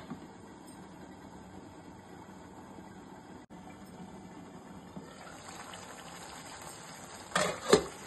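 Chicken gravy simmering in a covered pan over a medium flame gives a steady low bubbling hiss throughout, with a brief louder clatter near the end.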